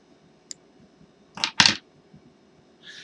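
Fishing thread snipped in half with a small cutter while tying a feathered treble hook, two sharp close clicks in quick succession amid near silence, with a faint tick before and a soft rustle after.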